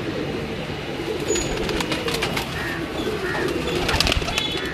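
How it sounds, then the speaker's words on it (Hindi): Pigeons cooing on a rooftop where pet pigeons are kept, a steady low murmur of coos from several birds with occasional chirps over a constant background hiss. "ये मेरे 41 नंबर हैं कबूतर"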